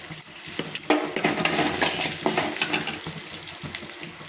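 Hot oil sizzles and crackles steadily as asafoetida, ginger, green chilli and curry leaves fry for lemon rice tempering, with occasional stirring scrapes and clinks close by.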